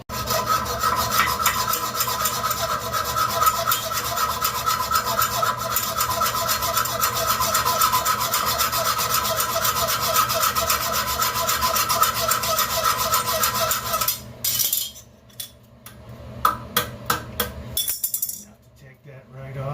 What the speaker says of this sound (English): So I'm going to finish sawing this, keep moving ahead.